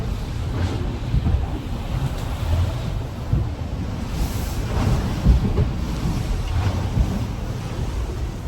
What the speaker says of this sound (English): So there's a bit of noise you can hear coming through the hulls of the water swooshing past the hulls.